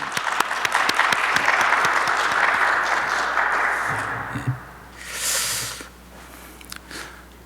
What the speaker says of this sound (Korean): 우리 환영의 박수 한번 쳐드릴까요?